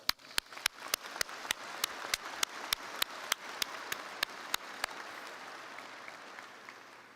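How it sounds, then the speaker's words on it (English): Applause from the audience at a college commencement ceremony, heard as a brisk run of sharp, evenly spaced claps close by. The clapping is fairly faint overall, thins out and fades away after about five seconds. "So please join me in giving them all a round of applause"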